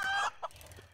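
A chicken in the 7 Days to Die video game gives a short burst of clucking up close, then a single quieter cluck, with low game ambience underneath.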